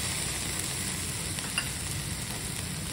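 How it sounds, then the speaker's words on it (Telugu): A tomato frying in oil in a pan, a soft, even sizzle with occasional faint stirring ticks, fairly quiet and steady throughout with no voices. "ఇది చల్లారేలోపు ఒక టమోటో వేసి బాగా ఫ్రై చేసుకుందాం"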